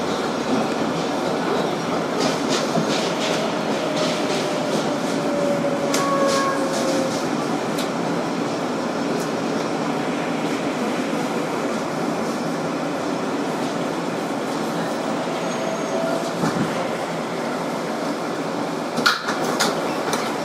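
A Queensboro Plaza bound 7 train, a 2012 Kawasaki R-188 on the IRT Flushing local, runs with a steady interior rumble, faint wheel squeals and scattered clicks and thumps over rail joints.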